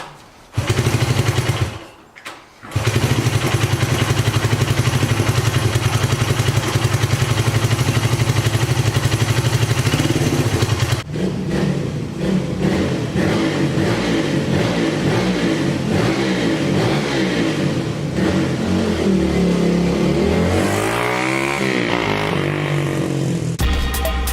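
A 1975 Honda CB125S motorcycle on choke sputters to life after a failed attempt, then keeps running loud and close with uneven revving and shifting engine pitch.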